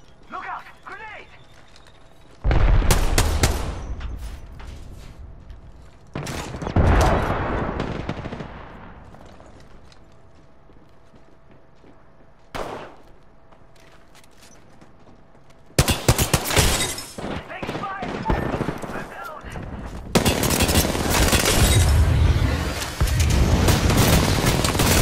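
Enemy gunfire in the shooter game Apex Legends comes in loud automatic bursts separated by quieter stretches. A player talks over the shooting.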